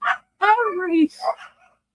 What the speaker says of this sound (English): If you hear him, that's my dogs in the background.